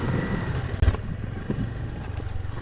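A Honda Activa scooter stuck on a bad track revs its engine in a low, uneven drone with a brief thump partway through, heard from close by without talk.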